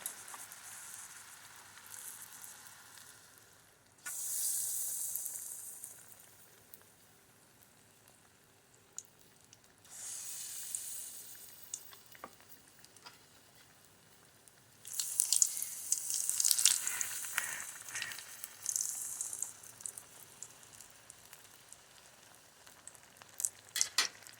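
Rice, potato and cheese balls are lowered into hot oil. Loud bursts of bubbling sizzle flare up at intervals, with a quieter, low simmer between them.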